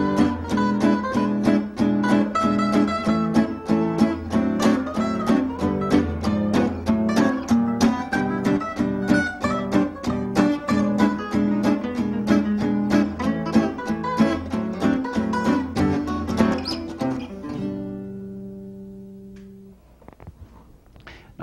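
Steady acoustic rhythm guitar chopping out even, driving gypsy jazz la pompe chords, four downstrokes with beats two and four dampened, bouncing pulse, ringing out on a final chord.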